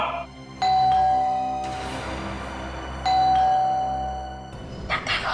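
A doorbell chimes twice inside a home, each a clear ding-dong tone fading out slowly, the second following about two and a half seconds after the first, with a quiet room hum beneath.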